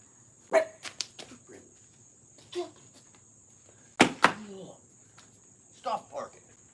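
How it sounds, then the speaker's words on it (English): A pet dog barks indoors in a handful of sharp, irregular bursts spread across the moment, close and loud against a steady insect-like hum, with a voice scolding it in between. "What are you barking at?"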